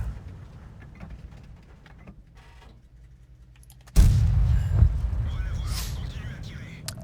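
Tank cannon firing in the online game World of Tanks, one sudden loud boom that cuts through quiet game ambience and fades into rumbling echoes, with someone talking in the clip.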